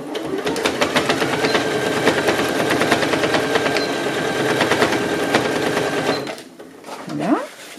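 A sewing machine stitches the second half-circle of a fabric bag in a fast, steady mechanical rattle for about six seconds, then stops, followed by a brief voice.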